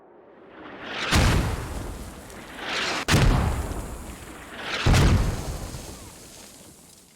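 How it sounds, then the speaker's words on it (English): Mortar rounds in the video game Squad land as three heavy booms spaced about two seconds apart, each with a rising inbound whoosh just before impact and a long rumbling tail. "As you can hear, definitely you can hear the inbound coming in a second or two before they hit"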